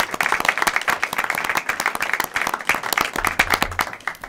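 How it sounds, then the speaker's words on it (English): A small group at a school board meeting gives a round of applause, distinct separate claps in a brisk, uneven rhythm with a few murmuring voices beneath. "What a round of applause."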